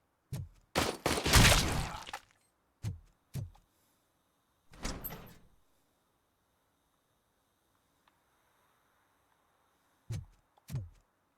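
Doors opening in the video game Robocop Rogue City, a series of mechanical sliding and thudding bursts, one longer grinding slide early on, then scattered short clunks separated by near silence.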